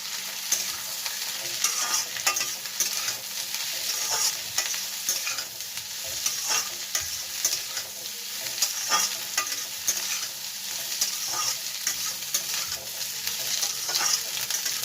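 Egg noodles with green chili, cabbage and spring onion are stirred in a hot pan, a continuous sizzle punctuated by repeated scraping and tossing strokes at an uneven rhythm, close and fairly quiet with no talk.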